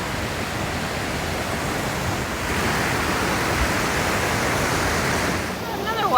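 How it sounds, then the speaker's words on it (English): Waterfall on the White River along the Foothills Trail, a steady loud broadband rush of falling water filling the whole span, close and continuous with no talk. "Another waterfall."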